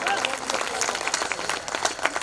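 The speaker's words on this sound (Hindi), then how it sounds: "भाई अपने लिए एक बार जोरदार तालियां बजाइए आप लोग" Crowd of listeners at a Hindi kavi sammelan poetry gathering in a college hall, clapping briskly in a short burst of applause with scattered louder claps and faint voices mixed in.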